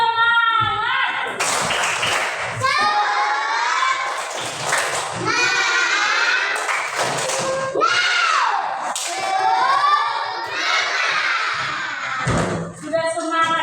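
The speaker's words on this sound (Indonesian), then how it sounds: "Ayo, tepuk semangat." Schoolchildren in a religion class do a rhythmic spirit clap in bursts of patterned hand claps, loud and close, while their voices chant and shout along between the beats.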